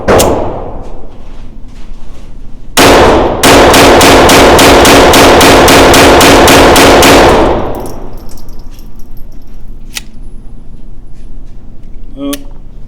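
A Taurus TX22 Competition .22 pistol fires a quick string of shots, loud rapid cracks in succession, followed by faint metallic dings from a steel target, with talk throughout.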